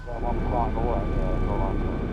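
London's air ambulance helicopter flying overhead, a steady, loud engine and rotor drone that holds evenly through the whole stretch with a faint whine above it and no talk.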